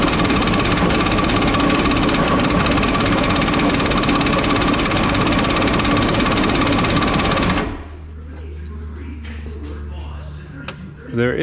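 The two-stroke engine of a mini jet boat, run on a 40-to-1 fuel mix, cranks with a loud, dense mechanical rattle for several seconds. It then stops abruptly, leaving quieter clicks and shuffling.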